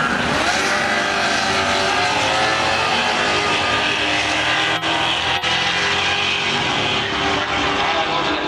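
At a Street Car Takeover car show in Charlotte, a Fox-body car makes a run, its engine roaring loud and continuous as it accelerates, with a couple of brief breaks in the sound.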